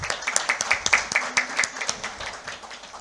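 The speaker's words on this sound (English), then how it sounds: "Let us all join hands and give him a round of applause to thank him" A small audience claps at the inaugural session of a professional gathering, with sparse, uneven hand claps that thin out over three seconds in a moderately reverberant hall.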